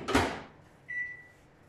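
A kitchen cupboard is opened with a short rustling clatter, followed by a steady electronic beep-like tone as a microwave is set running for a Morteau sausage and potato dish, both close and with no talk.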